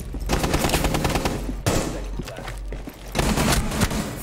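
Automatic gunfire in the tactical shooter Rainbow Six Siege, loud sustained bursts broken by short pauses, with brief voice chat underneath.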